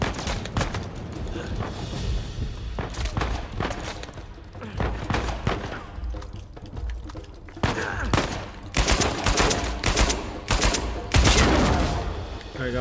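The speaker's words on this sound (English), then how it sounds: "Man, they're just shooting me." Enemy gunfire in Uncharted 4 comes in repeated bursts of sharp shots and rapid automatic volleys, loud and close, in irregular clusters over a rumbling background, with occasional talk mixed in.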